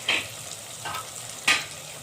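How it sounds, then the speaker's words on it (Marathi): Masala spices with salt and kasuri methi cook in a pan for a fish curry, a soft steady sizzle broken by three brief louder bursts of stirring or frying, close and without voices. "आणखी याला 1 मिनिट छान मसाले शिजून घ्यायचे आपल्याला"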